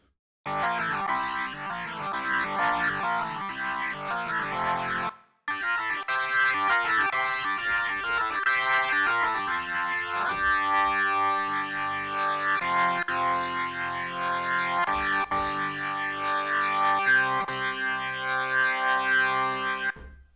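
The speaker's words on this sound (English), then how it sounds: "Two different Hammonds, two different sound engines," Arturia Hammond organ software instrument playing sustained chords with a slightly gritty, effected tone, briefly stopping then resuming, loud and alone.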